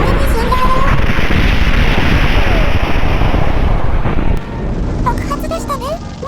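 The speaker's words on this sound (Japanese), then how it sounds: "爆発でしたね。" A tank explodes in the Sprocket tank-design game, a loud sustained roaring blast of rumbling noise lasting several seconds before it fades into a quieter rumble, with a voice talking over it.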